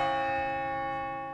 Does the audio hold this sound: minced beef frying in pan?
no